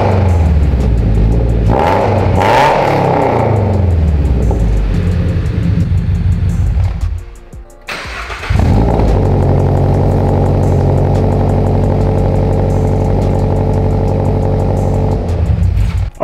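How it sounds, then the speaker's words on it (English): A first-generation car with a modified front pipe and over pipe revs hard and loud, its engine note rising and falling in repeated sweeps, then cutting out briefly before settling into a steady, throaty idle with no voices. "Let's let it warm up a little bit and give her some revs."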